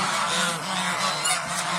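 A flock of domestic geese honks loudly and continuously at close range, the overlapping calls forming a steady, noisy clamor with no talking.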